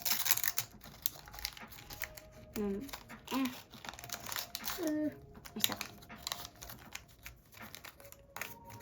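Close crinkling and rustling of a plastic packet in bursts, with a voice speaking briefly over the handling.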